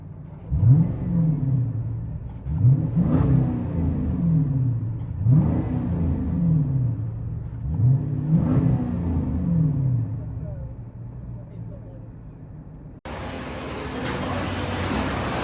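Heard from the cabin, a 2010 Dodge Challenger R/T HEMI with dual exhaust and the mid muffler deleted revs four times in a row, each a deep, swelling roar that climbs and falls back, followed by a rush of road noise.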